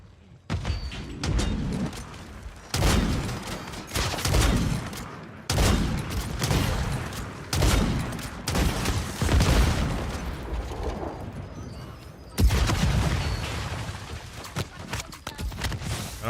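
Video game gunfire comes in dense bursts of rapid shots, loud and close, broken by short pauses, with a voice talking between volleys.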